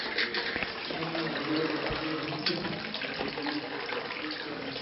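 Water runs steadily and close by for several seconds, a continuous broad rushing like a tap or shower, with no pauses.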